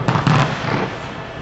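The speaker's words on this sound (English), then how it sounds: "100 kilograms of explosives made a big bang" Explosive charges totalling 100 kilograms detonate to bring down a 4,000-ton silo in Red Bank, Australia, giving a loud, close burst of cracking bangs followed by a fading rumble.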